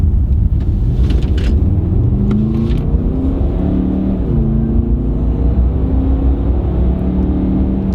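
A 2019 Skoda Kodiaq vRS accelerates in sport mode, heard from inside the cabin as a loud, deep engine rumble rising through repeated gear climbs, with a few faint clicks near the start and no talking.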